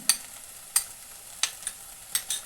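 A spoon stirs salt into curd in a vessel for an Onam sadya dish, with about half a dozen sharp, separate clinks against the vessel spaced out over a quiet background.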